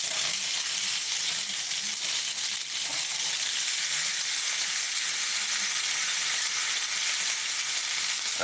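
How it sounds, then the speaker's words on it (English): Lamb chop searing in a cast iron pan, a steady close broadband sizzle holding at even loudness from start to finish with no voices over it. "Do a little sear on that side."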